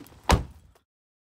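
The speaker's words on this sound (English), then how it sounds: "I gotta close the door unless a snake might get in the car" A single solid thunk of a car door shutting, close and brief, followed by sudden silence.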